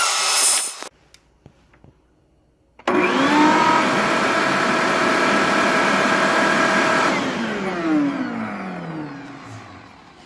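A 6.5 horsepower shop vac powered through a 2000W inverter starts after a brief quiet gap, roaring loudly and steadily close by for several seconds, then winds down with a falling whine.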